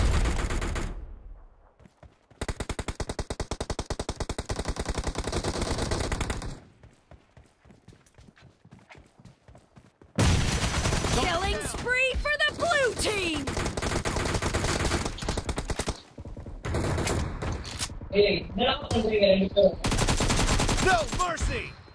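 Rapid gunfire from the battle-royale game PUBG on an iPhone 7, bursts of automatic shots in loud stretches broken by brief pauses, with other game effects and some voices mixed in.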